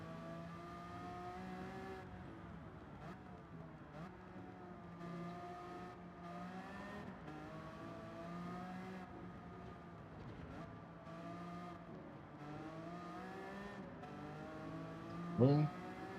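A race car's engine drones and shifts pitch as it drives a misty track in a video game, a steady whining hum rising and falling with gear changes and a brief sharp knock near the end.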